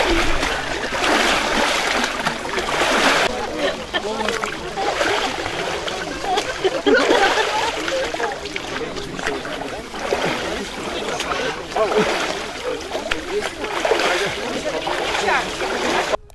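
People plunge and splash in icy water during midnight Epiphany bathing in Karaganda, with continuous splashing and watery churning under a voice talking throughout.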